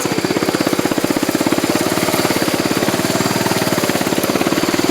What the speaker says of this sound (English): I'm gonna put in four-wheel drive and see how it does creeping around in the weeds